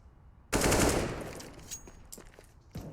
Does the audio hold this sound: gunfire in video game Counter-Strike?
yes